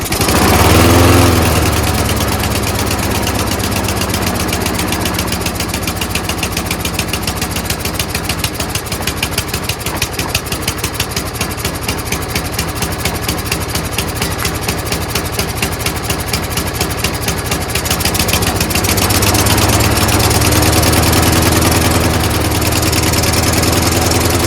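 Toro Recycler Personal Pace self-propelled lawn mower with its choke flap stuck shut, pull-started and then running steadily on its own, a loud close engine drone with a rougher stretch in the middle and no talking.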